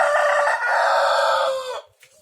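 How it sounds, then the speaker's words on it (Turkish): A loud rooster crow, one long sustained call lasting nearly two seconds that cuts off sharply, followed by a brief faint trailing note. "Horoz."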